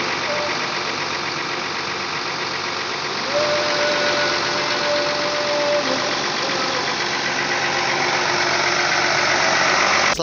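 A bus engine idles at a terminal while warming up, giving a steady, loud, continuous rumble with a faint whine entering partway through and no voices.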